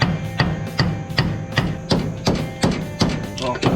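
Steady, evenly spaced hammer blows ring out on metal, about three strikes a second, loud and close.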